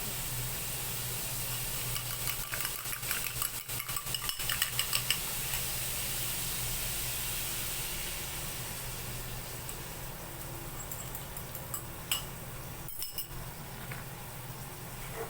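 Java rice with egg being stirred in a hot pan, a steady sizzle under clinking and scraping of a utensil, with clusters of louder taps partway through.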